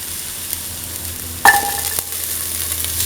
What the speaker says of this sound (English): Put in the shallots